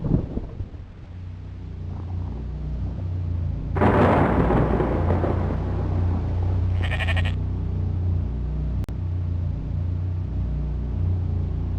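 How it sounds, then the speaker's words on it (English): Sheep bleating in the horror video game The Quivering, a sustained bleat over a low droning rumble, with brief sharper noises partway through and no talking. "It is, as they say, a sheep."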